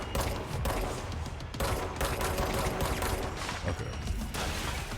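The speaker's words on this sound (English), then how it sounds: "she's weaving my gunshots" Dense, continuous gunfire in the video game Control during a boss fight, a loud rattling barrage of rapid shots with little break across the whole stretch.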